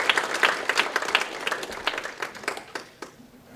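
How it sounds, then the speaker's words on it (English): A small audience at a city board of aldermen meeting applauds, with distinct sharp claps in a thinning, uneven patter that tapers off toward the end. "So now I would like to ask you to join me in applause."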